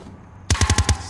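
A quick burst of about five sharp, evenly spaced gunshots in a competitive first-person shooter match, loud and close after a brief quiet lead-in.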